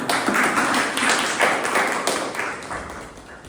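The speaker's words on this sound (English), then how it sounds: "A big round of applause for Toastmaster." Applause from the audience at a Toastmasters club meeting, a dense steady patter of clapping hands that fills the whole moment, close and fairly loud, then eases off slightly toward the end.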